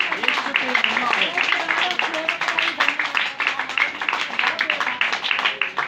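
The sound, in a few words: audience applause for Jesus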